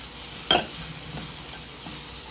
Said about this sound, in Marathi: हे सर्व मिक्स करून घेऊया